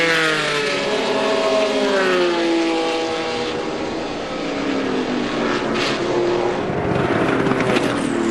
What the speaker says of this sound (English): Listen, nothing sounds like a straight 6.